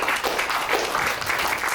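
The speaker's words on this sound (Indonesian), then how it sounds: "tepuk tangan buat Tuhan Yesus" A church congregation at a worship service in Batam applauds together, a dense, steady wash of clapping that lasts a couple of seconds with no talk over it.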